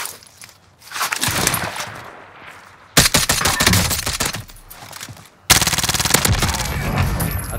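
Call of Duty Warzone gunfire in bursts: a stretch of rapid shots, then two sudden loud volleys of sustained automatic fire, each starting abruptly and rattling on without pause.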